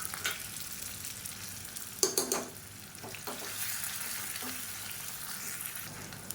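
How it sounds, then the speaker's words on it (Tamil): Shallots and garlic fry quietly in a pan, a soft sizzle underneath a few sharp clatters and stirring scrapes near the middle. "இப்போ இது ரெண்டையுமே சேர்த்துக்கலாம். இந்த வெங்காயம் பூண்டு நல்லா செவந்து வரணும்."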